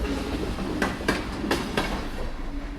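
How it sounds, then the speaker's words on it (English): A train runs through a remote rail tunnel, its rumble steady and fairly loud, with several clacks of the wheels on the rails at uneven intervals and no voices. "I didn't know this, but trains still run through that tunnel."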